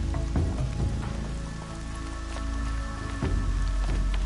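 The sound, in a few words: rain falling in the video game Horizon Zero Dawn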